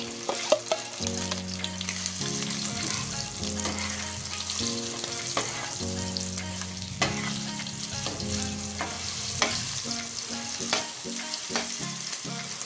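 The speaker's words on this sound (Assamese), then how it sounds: "সেই চিকেনখিনি মই আপোনাৰ ল' ফ্লেমত ফ্ৰাই কৰি ল'ব লাগিব" Chicken pieces for Assamese-style pakora frying in oil over a low flame, a steady close sizzle with occasional stirring clinks, no voices.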